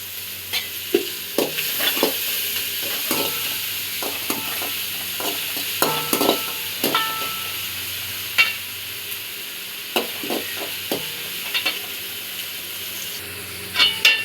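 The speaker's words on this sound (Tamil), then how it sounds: "எண்ணெய் ஊற்றி வச்சு ஆனியன் போட்டுறோம்." Onions frying in oil in a pan for Tamil-style chicken kulambu, with a quiet continuous sizzle punctuated by repeated sharp scrapes and knocks of a stirring spoon, no talking.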